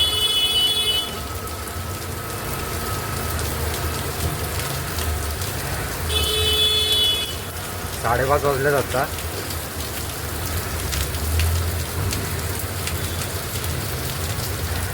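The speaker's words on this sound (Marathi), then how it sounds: "पाऊस परत चालू झाला आहे." Steady rain pours down on a Mumbai street, a continuous hiss that runs through the whole stretch while someone speaks briefly over it.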